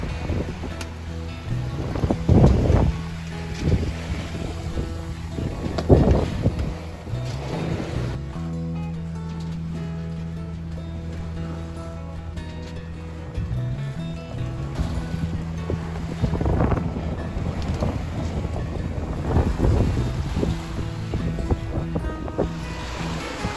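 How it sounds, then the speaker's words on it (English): Wind and large side-on waves around a sailboat under way to Menorca: rushing wind noise with repeated surging wave washes and thumps against the hull, loud and close, with a steadier hum through the middle stretch. "And a good wind to go to Menorca. Still big waves from the side."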